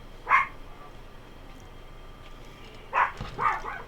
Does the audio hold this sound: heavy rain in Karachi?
no